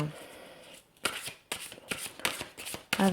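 A deck of oracle cards, an angels-of-love set, is shuffled by hand for a love reading: repeated crisp riffling bursts in quick succession, close and fairly loud, with brief pauses between them and no talking.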